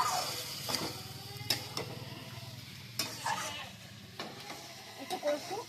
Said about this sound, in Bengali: এখন আমি ফুলকপিগুলো দিয়ে দেবো। এবার মশলাটা একটু কষবো